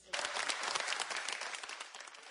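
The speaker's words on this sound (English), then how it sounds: "some people in the crowd clapped" A crowd at a city council meeting claps right after a 6-3 vote on controversial gun legislation, with dense, steady applause that holds at a moderate level through the whole clip.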